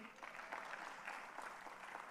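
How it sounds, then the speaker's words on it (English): Conference audience of plant breeders clapping for the Zimbabwean association, a faint, distant, fairly steady patter of applause through the whole moment. "Please clap for them."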